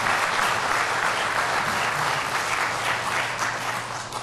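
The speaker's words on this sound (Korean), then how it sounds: "하나님께 한번 감사의 박수를 드리시기 바랍니다" A church congregation bursts into sustained applause during a Korean worship service, a dense, loud clapping that fills the room and tapers slightly toward the end.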